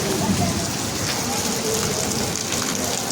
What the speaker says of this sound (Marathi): बाहेर पाऊस पडता